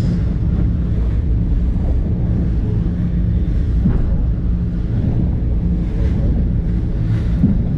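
Big sea waves and strong west wind at Raja Ampat during a boat trip from Waisai to Sorong, with a constant loud rushing roar of wind and water and rumbling hull noise.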